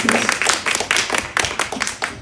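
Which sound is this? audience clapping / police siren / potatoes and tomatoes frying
audience clapping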